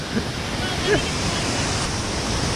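A waterfall in the Phong Nha cave system in Vietnam rushes in a loud, constant broadband roar, close by, with a brief voice breaking through at one point.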